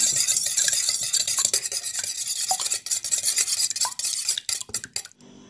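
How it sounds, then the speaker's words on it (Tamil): Broken eggs being beaten in a bowl for egg manchurian, a fast steady run of scraping, clicking whisk strokes against the bowl, close and loud, easing into sparser taps toward the end. "முட்டையை உடச்சி ஊற்றிருக்கேன் நல்லா கலக்கிக்கிறேன்"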